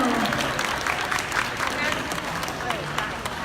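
Audience applause at a Pocari Sweat Thailand presenter launch event rolls on steadily from start to finish, a dense wash of clapping with crowd murmur underneath.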